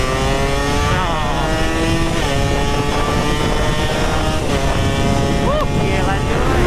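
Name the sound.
Suzuki Satria motorcycle engine while riding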